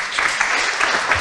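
An audience at a Mezőtúr entrepreneurs' marketplace event claps for a young boy named Ádám, a steady dense patter of many hands at moderate loudness.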